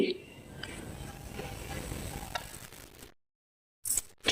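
Onions frying with ginger garlic paste in a pan, a close crackling sizzle with stirring scrapes that stops abruptly, followed by a short silence and a couple of brief bursts.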